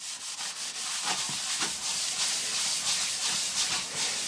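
A Scotch-Brite pad scrubs a dull metal surface on a Blobeye WRX STi rear axle part: steady, close, hissing abrasive rubbing in repeated strokes, no voices.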